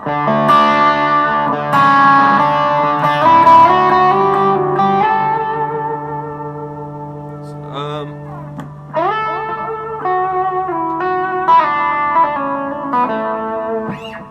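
Electric guitar played with a touch of delay, sustained chords and melodic runs with echoing repeats, fairly loud and dry.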